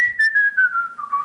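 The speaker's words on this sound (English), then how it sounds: "Doing the little whistle as he's running away" A single short whistled tune, a clear tone gliding slowly downward in a few pulsing notes, close and alone with no talking.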